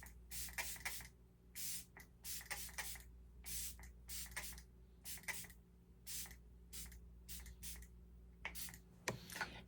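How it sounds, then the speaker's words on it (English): A face mist with green tea and aloe vera is sprayed onto the face in a quiet room, roughly a dozen short hissing bursts in irregular quick clusters, close and soft, with no talking. "So I'm just gonna spray it in my face."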